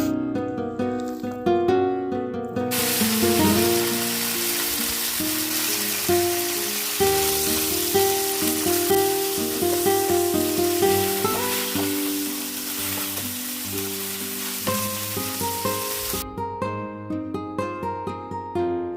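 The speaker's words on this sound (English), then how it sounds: "over here in my skillet I added some vegetable oil. So we are going to cook our beef." Shredded beef fries in vegetable oil in a skillet, giving a dense, continuous crackling sizzle that stays loud and even. Soft music plays along with it throughout.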